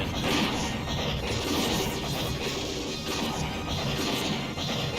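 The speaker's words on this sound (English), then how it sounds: "Beam cannon." The beam cannon skill attack in the Shining Force 3 video game: a loud, dense crashing blast of noise sustained for several seconds, with roaring, crackling surges layered throughout.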